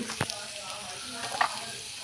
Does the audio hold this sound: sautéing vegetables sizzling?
yes